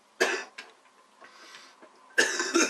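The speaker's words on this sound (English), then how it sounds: "Here's a level of having a chesty cough." A chesty cough sounds twice, close and fairly quiet, with a soft throaty rasp in the gap between the two bursts and no talk.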